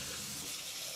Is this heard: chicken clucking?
no